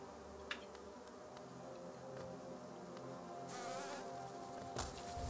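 Bees buzzing inside a beehive in the game Hollow Knight, a faint continuous insect drone with occasional soft clicks, swelling slightly toward the end with no voices.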